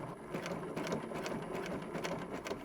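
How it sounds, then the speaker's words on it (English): A sewing machine runs a regular straight understitch along a seam line on the pocket side of a zippered pocket, a rapid even mechanical chatter held close and steady for a few seconds, with no talking. "I'm understitching right next to that seam line on the pocket side, doing a regular straight stitch."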